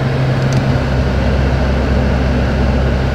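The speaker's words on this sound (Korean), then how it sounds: "블루모터 소리 납니다." Heater blower motor of a BMW F10 528i running steadily inside the car, a loud, continuous broadband whoosh of air with a low hum underneath and no change in pitch.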